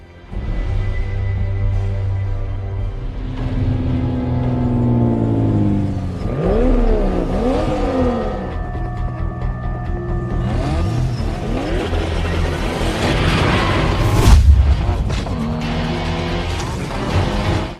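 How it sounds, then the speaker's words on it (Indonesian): Race cars in a street-racing film, a Nissan Fairlady 350Z and a Ford Mustang, rev hard with rising and falling engine pitch, loud and close throughout, with a brief tire-squeal burst near the end. "DK yang masih menggunakan mobil Nissan Fairlady 350Z-nya itu melaju dengan barbar"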